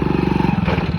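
A Hero Splendour motorcycle engine idles after a primary gear modification, giving a quick, even, close putter of rapid pulses for about a second.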